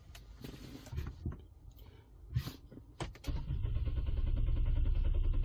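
A 2012 Renault Samsung New SM5 LPI with a stalling fault cranks in the cabin, with clicks and uneven starter churning that settle into a steady, loud mechanical whirr without catching.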